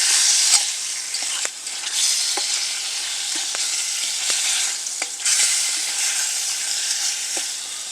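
Bacon fries in a pan with a bright, steady sizzle, broken by repeated clinks and scrapes of a utensil stirring, up close and alone.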